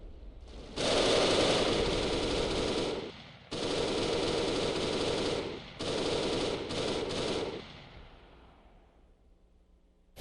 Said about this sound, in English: Seems like the teams are just exchanging fire right now.